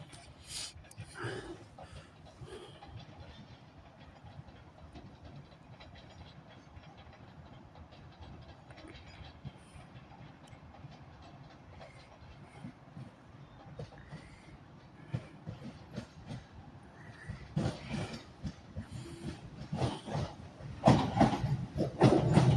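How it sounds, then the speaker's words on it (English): A TransPennine Express class 800 train pulling into Carlisle station, a low rumble and clatter of the wheels building steadily toward the end, with some faint talk nearby. "So arriving into Carlisle now is a Transpan Express service to Edinburgh Waverley from Manchester Airport with one of their 800 sets."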